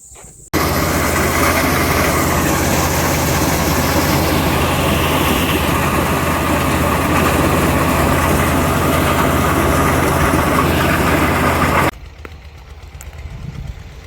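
A tractor engine runs on a farm during a maize harvest, with a trolley for loading sacks. It holds a loud, steady, close drone with a low hum for about eleven seconds, then cuts off, leaving quieter background noise.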